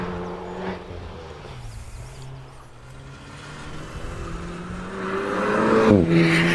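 An Alpine A110 with a 1.8 litre turbocharged engine climbs a hillclimb course at Loton Park. The engine drones loudly and steadily, and its pitch rises and swells toward the end as the car accelerates uphill.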